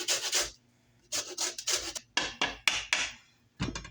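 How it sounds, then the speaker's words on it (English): Lemon peel is grated on a grater in a series of close, rasping strokes, short bursts in uneven rhythm with brief pauses between, no voices. "I'm going to grate the second lemon."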